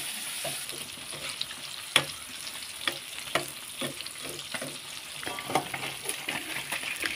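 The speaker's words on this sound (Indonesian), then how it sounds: "ini tak goreng di sebelah." Sambal ingredients frying in a pan beside cooking tilapia, a steady close sizzle with scattered crackles, pops and occasional stirring scrapes, no talking.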